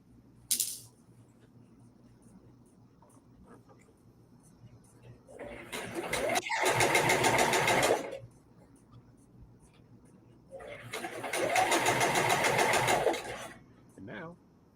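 A bernette b68 maker edition serger stitching a seam on a shirt runs in two whirring bursts of about two to three seconds each, separated by a quiet pause, with faint talk in the gaps.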